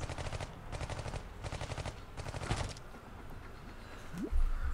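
Bursts of automatic gunfire from the mobile strategy game Iron Marines, four rapid rattling volleys in quick succession, each lasting under a second, loud and close, with no talk over them.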